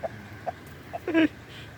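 Farm chickens clucking nearby, a few short separate clucks followed by a louder, longer squawk, moderately quiet with no speech.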